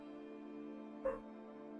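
One quiet, brief dog bark rings out once over a steady low electrical hum in a streamer's room, sounding somewhat muffled and distant.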